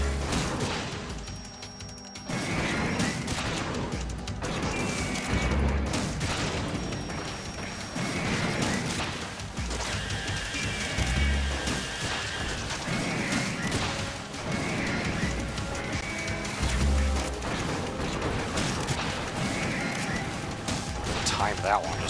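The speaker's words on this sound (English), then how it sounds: "Some more missiles." Missiles exploding during a battle in Metal Gear Solid 2: a dense, loud run of blasts, crashes and metallic impacts that goes on for more than twenty seconds over constant game noise, with a voice talking throughout.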